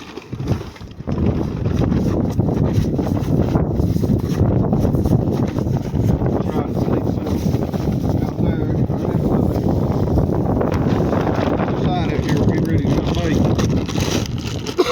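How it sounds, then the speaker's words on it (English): Steady wind rushes and buffets across the microphone for the whole stretch, a constant low roar with a person talking underneath. "It's a little windy up here today."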